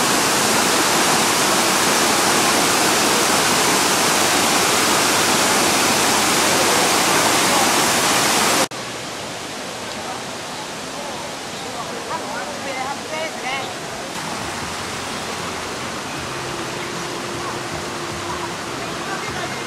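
Water from a decorative waterfall feature in Seven Stars Park, Guilin, pours with a loud, dense hiss for several seconds, then drops to a softer, more distant rush with faint background sounds.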